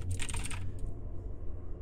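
Keys clatter on a keyboard in The Diving Bell video game, a quick burst of light clicks early on that gives way to a soft low hum.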